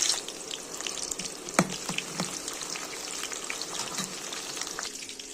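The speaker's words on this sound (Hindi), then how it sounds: "यहाँ पे मैंने तेल लगा लिया था और ये हो चुका है गरम। अब मैं इसमें डालूंगी चॉप्ड अनियन" Chopped onions hit hot oil for a tadka and crackle loudly, a dense close sizzle with quick pops and a stirring clatter near the start.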